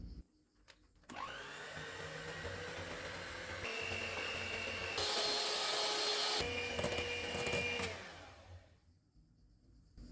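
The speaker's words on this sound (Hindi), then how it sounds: "क्रीम को व्हिप करेंगे।" An electric hand mixer whipping cream for mango ice cream runs steadily for several seconds, its whine shifting up in pitch as the speed changes, then stops, with no talking.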